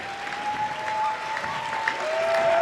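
A home crowd at a high school girls basketball game applauding and cheering steadily, dense clapping with a whistle-like tone running through it.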